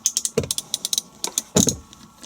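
A ratchet with a 10mm socket and extension bar loosening bolts on a Land Rover Defender TD5 gearbox, giving quick, regular clicks in close, crisp bursts with a brief pause in the middle.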